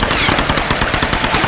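Rapid automatic gunfire from Tomb Raider Definitive Edition, a dense, loud burst of machine-gun shots rattling continuously throughout with no pauses.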